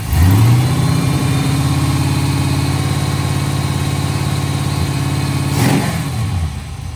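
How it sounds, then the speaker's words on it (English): Race car engine idles loudly up close, then its pitch climbs briefly in a quick rev before dropping back to a steady idle that fades slightly. "When I rev it up,"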